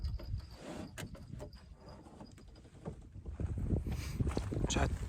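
Wind gusting across Loch Chon while a canoe is paddled, a steady low rumble of buffeting that builds louder toward the end, with water and hull noise mixed in.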